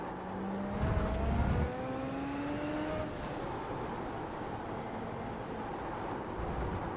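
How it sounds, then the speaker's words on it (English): Turbo whoosh from a race car in the iRacing simulator, heard from the cockpit: a steady engine drone with whistling, hissing turbo tones that rise and fall, including a brief louder surge near the start. "Love the sound of the turbo just going tss."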